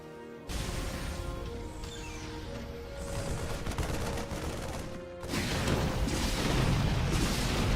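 Banshees fire on SCVs in a StarCraft 2 match: dense, rapid bursts of sci-fi gunfire crackle close and continuously, surging louder and harsher over the last couple of seconds.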